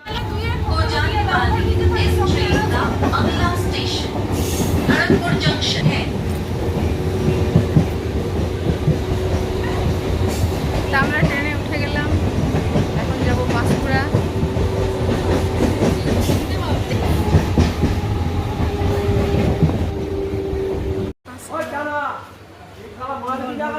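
Train at a railway station, with rail clatter and a steady rumbling roll throughout, and voices and station bustle over it; a brief drop near the end before the noise resumes.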